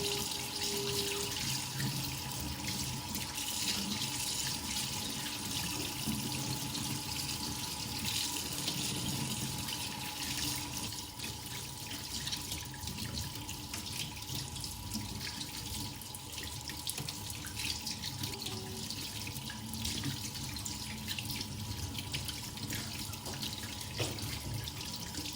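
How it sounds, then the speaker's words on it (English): Tap water runs steadily into a sink as salmon is rinsed beneath it, a continuous close splashing rush lasting the whole stretch with no voices. "Now firstly I'll clean with tap water."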